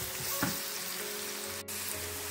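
Spices sizzle and fry in a hot pan while being stirred for a raw green tomato bhaji, a steady close crackling with a faint scrape of the spoon.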